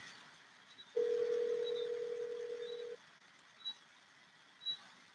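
A steady telephone tone sounds for about two seconds at moderate volume, clean and unbroken, then cuts off, leaving a quiet line with a few faint short blips.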